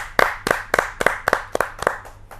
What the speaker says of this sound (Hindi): जोरदार तालियों के साथ हम उनका स्वागत करते हैं